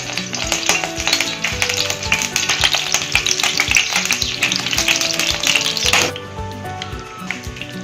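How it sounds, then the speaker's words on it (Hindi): Bread vegetable kebabs fry in a shallow layer of hot oil, a busy crackling sizzle with rapid spatters and tapping pops, loud and steady before easing to a gentler simmer near the end. "ब्रेड वेजिटेबल कबाब हम बना रहे हैं, फ्राई करने लगे हैं।"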